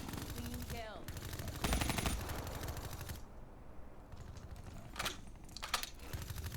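Rapid gunfire in the shooter Call of Duty: Black Ops III, fast rattling bursts with a few sharper cracks, moderately close and layered over game ambience, with a brief lull midway.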